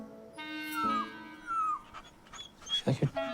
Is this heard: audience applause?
no